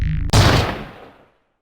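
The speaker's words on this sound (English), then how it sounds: "Was that a gunshot?" A single loud gunshot from a horror animation cracks sharply after a brief lead-in noise and then rings off in a fading tail that lasts about a second.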